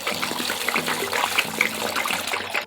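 Aquarium filter switched on in a goldfish tank, giving a continuous splashing, trickling water flow with small gurgles, steady and close, with no speech.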